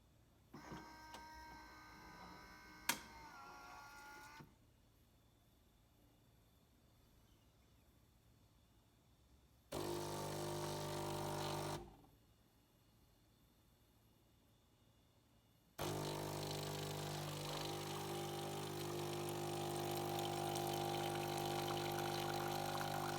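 Saeco Xelsis SM7683/10 automatic espresso machine heating and pumping water, with a mechanical whirr and click, quiet hum, then bursts of steady pump buzzing that resume and hold to the end.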